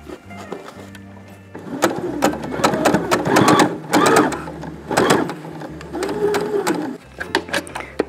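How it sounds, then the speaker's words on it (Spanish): A sewing machine stitching a fabric face mask with elastic, running in several close bursts of rapid mechanical whirring with short pauses and clicks between them. "Bajamos el pie y cosemos."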